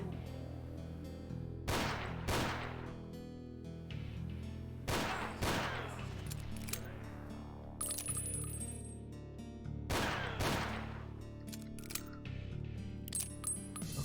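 Shotgun blasts from a sawed-off and pump-action in a video game, about five loud booming shots spaced a few seconds apart, each with a sharp crack and short decay over a low steady background hum.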